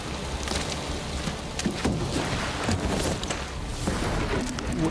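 Heavy rain from an animated show pours down as a dense, continuous hiss with scattered sharper spatters throughout, steady and fairly loud with no talk.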